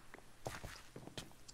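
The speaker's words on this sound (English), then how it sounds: "When you walk on wood, that's the noise it makes." Video game character walking on wood, a short run of quiet, hollow footsteps in an uneven clopping rhythm, faint and close with no talking.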